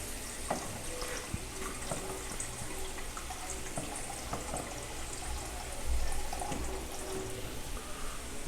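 Water poured into a pan while cooking bacalhau rice with thyme and rosemary, a soft continuous trickle and splash at moderate distance with small clinks, swelling briefly partway through.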